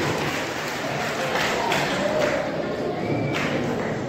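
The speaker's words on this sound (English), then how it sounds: "let us give a big round of applause for his service to our" An audience at a school uniform and notebook distribution event applauds, dense steady clapping from a crowd, sustained and fairly loud throughout.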